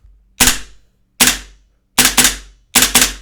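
An airsoft M4 gas blowback rifle running on an HPA adaptor fires four sharp, loud cracks: two single shots spaced apart, then two quick double bursts, each with a short metallic ring-off and no talking.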